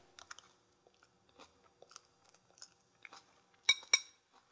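Someone chews a mouthful of jeweled quinoa salad with goji berries and pistachio, heard up close as soft, intermittent chewing, with two sharper crunches near the end.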